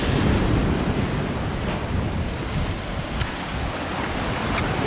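Waves surge and wash continuously onto a beach, loud and close, with heavy wind rumble buffeting the microphone throughout and no voices.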